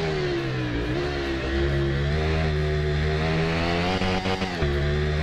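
A Ducati motorcycle engine in the racing video game Ride revs and drones loudly and continuously, its pitch rising and shifting, with a brief dip near the end.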